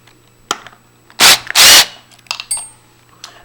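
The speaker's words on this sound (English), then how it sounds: "We're going to remove this screw and this screw, which hold this bevel plate on." Screws holding a bevel plate on a storeroom lever handle are backed out with a screwdriver or small power driver, giving two loud bursts of whirring close up, surrounded by scattered light clicks and taps.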